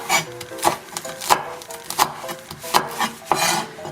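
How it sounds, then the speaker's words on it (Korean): A knife slices red chili peppers into rounds on a cutting board, with evenly spaced close chops, about one every two-thirds of a second. "홍고추도 동글동글 썰어줍니다."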